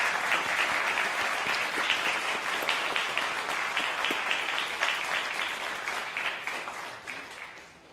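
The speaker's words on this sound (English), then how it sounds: "Can we clap to..." A rally crowd breaks into dense, sustained applause that fades gradually toward the end.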